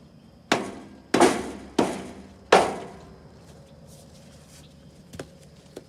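Four sharp hammer blows strike in quick succession on a new Texas Bragg trailer's boards, each ringing briefly, followed by a quiet pause and a faint tap near the end.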